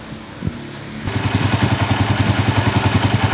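A Honda TMX motorcycle engine catches after a brief crank and settles into a steady, rhythmic idle, close up and fairly loud, with no talk over it.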